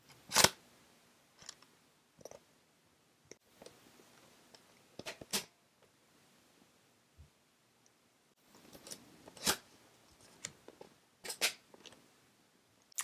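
A Fujifilm Instax Mini 40 instant camera handled in a quiet room, with scattered sharp plastic clicks and snaps as the lens barrel is pulled out, some louder, several faint.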